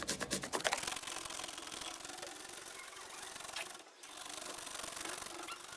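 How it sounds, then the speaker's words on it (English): An onion being grated on a hand grater, close up and fairly quiet: a continuous rasping scrape that opens with a few quick strokes, briefly stops, then resumes steadily. "When you're also grating an onion"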